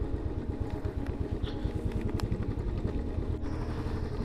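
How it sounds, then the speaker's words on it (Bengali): A motorcycle engine chugs steadily while riding a rough off-road mountain road from Chopta toward Kalpeshwar, a close, low rhythmic thumping with some rattling clatter over it. "সামনে দু একটা বাইক যাচ্ছে দেখতে পাচ্ছি"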